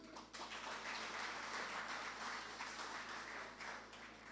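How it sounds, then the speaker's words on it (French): An audience at a French-language lecture on the 1991 coup d'état applauds to welcome the speaker, a continuous even clapping that sounds faint and distant. "Je vous demande d'accueillir M. Ewol à travers vos applaudissements."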